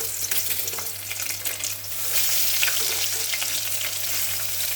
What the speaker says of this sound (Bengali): ডিমগুলো আমি হালকা করে ভেজে উঠাবো। সরষের তেল দিয়ে করবো কিন্তু আমি ডিমটা আজকে।